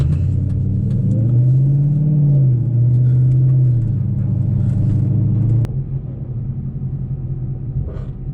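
A 2014 Ford Mustang GT cruising on a highway, its engine giving a steady, loud, close rumble with a short rise in pitch as the throttle opens before it settles into a continuous drone.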